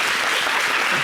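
A studio audience at a French-language television talk show applauds steadily, a dense wash of clapping that holds for about a second with no talk over it.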